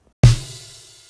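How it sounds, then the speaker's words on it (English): A single combined drum hit from the Liverpool kit in Logic, with a deep kick thump and a bright cymbal wash that rings out and fades over about a second, heard alone. "I'm using Logic's Liverpool drum kit"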